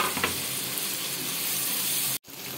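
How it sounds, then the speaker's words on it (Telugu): Chopped tomatoes added to onions frying in a pan for chicken curry, giving a steady close sizzle that runs throughout, with a brief dropout near the end. "నెక్స్ట్ కట్ చేసుకున్న టమాటాలు వేసుకుందాం. ఇవి కూడా బాగా మెత్తగా స్మాష్ అయ్యే వరకు వేయించుకోవాలి."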